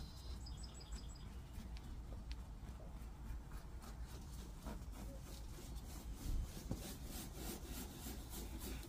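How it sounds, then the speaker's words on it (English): A cloth with oxidation remover rubbed in circles over an oxidized car headlight lens, producing repeated close scrubbing strokes in a steady rhythm, with faint birds chirping in the background. "the instructions are to rub in a circular motion to get off all the oxidation"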